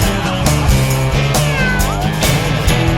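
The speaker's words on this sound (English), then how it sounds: "This is the Siamese cat." A Siamese cat meows amid loud, dense music, its short rising and falling cries partly buried under the steady musical backing.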